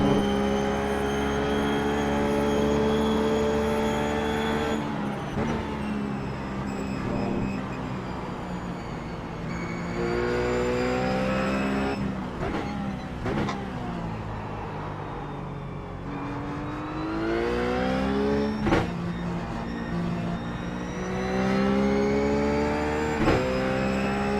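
A Ruf GT3 race car engine in iRacing at Phillip Island revs hard and climbs through the gears, with repeated rising sweeps broken by sharp shifts and brief lifts, loud and close with no talk.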